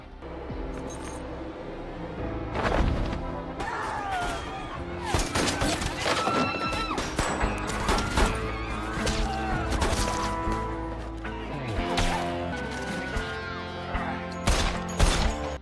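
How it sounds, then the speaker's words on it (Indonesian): Gunfire in a film about a crowded prison run by mafia gangsters, with bursts of loud shots, crashes and impacts packed densely over a dramatic score. "mereka mulai menembak ke arahnya"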